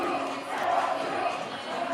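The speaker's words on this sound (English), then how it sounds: "Still hear the NYC crowd making noise." New York fans making noise at a playoff game, a loud sustained crowd roar with shouting voices blended together, steady throughout with a brief swell near the middle.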